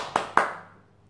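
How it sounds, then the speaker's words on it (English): Reception-class children clapping for themselves, heard as two crisp, close hand claps in quick succession, with a short ringing decay afterward. "Give yourselves a round of applause"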